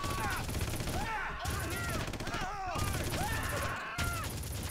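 Sustained gunfire in the Red Faction Remastered video game, dense continuous shooting with rising and falling whining effects layered on top, loud and steady throughout, with no speech.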